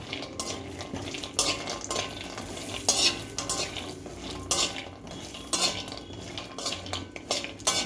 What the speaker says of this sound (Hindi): जल्दी फ्राई हो जाते हैं, इसलिए ज़रा संभाल के जल्दी, जितना जल्दी हो सके हाथ चलाएं